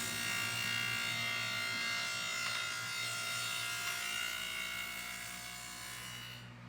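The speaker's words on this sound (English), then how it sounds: "I'm just going to set up a dado stack on the table saw and use a sacrifice fence, and I'll just be able to cut that clean rabbet joint" Steady, fairly quiet whirring drone of a table saw with a dado stack cutting rabbet joints in 2x6 wood, running continuously and fading slightly toward the end.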